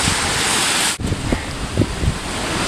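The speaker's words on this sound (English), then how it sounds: "there is a gust every once in a while. I mean, a heavy gust every once in a while." Typhoon wind buffets the microphone in a steady loud roar with rain and surf-like wash, a brief lull near the one-second mark, then scattered thumping gusts.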